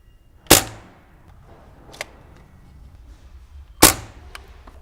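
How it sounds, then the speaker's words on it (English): Pellet gun shots at a Shoei Neotec motorcycle helmet visor: two sharp, loud cracks a few seconds apart with a fainter snap between them, in an otherwise quiet setting. "We'll put 5 shots into each and count how many went through"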